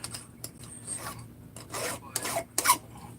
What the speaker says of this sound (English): and Matt, I would highly recommend deburring these